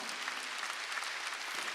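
A church congregation applauding during a Sunday worship service, dense steady clapping from many hands filling the room briefly.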